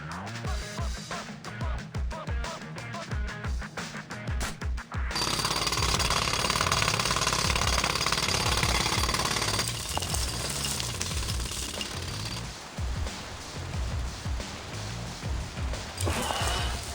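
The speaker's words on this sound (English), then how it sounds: "I need more time to finish hammering the hole!" Rapid, hard metallic pounding as a hole is hammered open beneath a treatment facility reservoir in TMNT Mutants Unleashed, a loud continuous rattle that shifts in texture over the stretch amid dense action noise.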